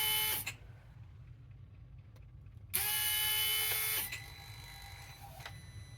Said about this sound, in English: We have a working vacuum pump.